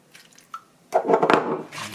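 Water splashes over seasoned lamb ribs being prepared for slow roasting, a short liquid pour and squish after a few faint drips, close and fairly loud, with no talking.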